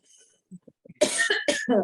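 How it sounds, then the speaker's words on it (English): A short burst of several sharp coughs in quick succession, close and loud, after a few faint breathy sounds. "I start coughing"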